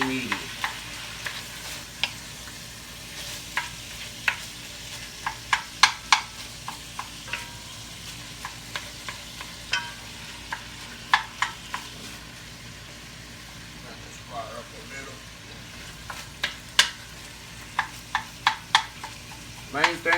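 Ground meat sizzles steadily in a pan while a utensil stirs and breaks it up, giving frequent sharp scraping clicks over the constant frying hiss, close and moderately loud, no voices.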